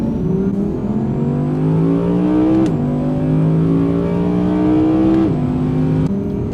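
An Audi R8 V10 Performance coupe with S tronic gearbox accelerates hard around the Ascari race track, the V10 climbing through revs with quick upshifts heard from inside the car.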